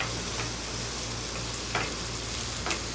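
Onions and garlic frying on a Blackstone griddle, a steady close sizzle broken by a few scraping spatula strokes, with no voices.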